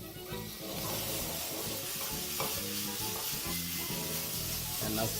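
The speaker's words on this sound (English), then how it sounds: "Just as soon as your pan starts to sizzle" Steady, dense sizzling of shrimp in a hot pan, continuous and fairly loud throughout with faint clinks and stirring underneath.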